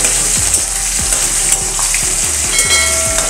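Curry leaves and green chillies sizzling in hot oil in a pan for poha, a steady loud crackle with a fine high hiss and a regular rhythmic clicking beneath it.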